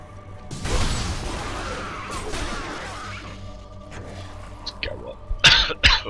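A person gives a harsh cough close to the microphone, followed by rough throat-clearing and breathing. A few sharp knocks and clicks come near the end.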